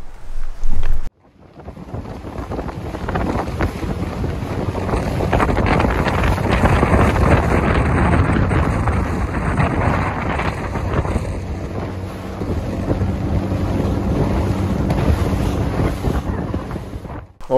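Continuous drone of a motorboat crossing Lake Ounasjärvi in Finnish Lapland on a windy day, with wind buffeting the microphone and water rushing throughout.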